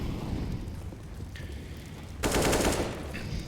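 Rapid gunfire in a CS:GO match: a steady bed of game noise, then a loud, dense burst of automatic shots that runs on to the end, with a brief tonal blip before and after it.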